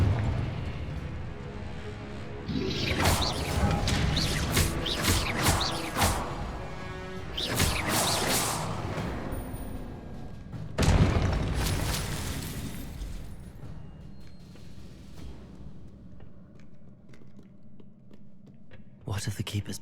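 Confringo spell exploding in Hogwarts Legacy, loud bursting blasts and crashes with whooshing debris over game audio, fading into a low rumble.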